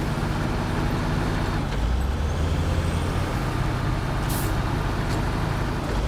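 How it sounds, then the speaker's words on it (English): An off-road truck drives in the video game Snowrunner, a steady, loud, close engine drone with deep low rumble that shifts pitch partway through, plus a brief hiss near the end. "One of those good handling off-road trucks."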